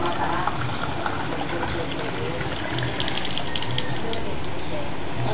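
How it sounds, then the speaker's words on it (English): Water is poured into a drain with a continuous splashing gurgle, and a voice sounds in the background. "Pour, bring it over here to pour it."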